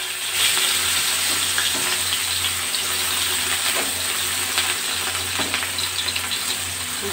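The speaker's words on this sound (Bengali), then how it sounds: "তেল আমার গরম হয়ে গেছে, উচ্ছেগুলো ছেড়ে দিচ্ছি" Bitter gourd pieces fry in hot oil with black cumin seeds in a wok, giving a steady, close, crackling sizzle with occasional louder pops and stirring scrapes throughout.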